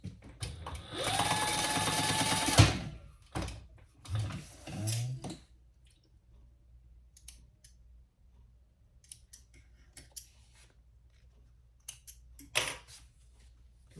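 A home sewing machine basting a D-ring onto a fabric strap connector runs in a short, close burst of rapid stitching, followed by a few scattered clicks and handling noises in a quiet room.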